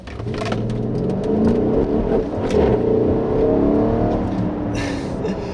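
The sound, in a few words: V8 engine accelerating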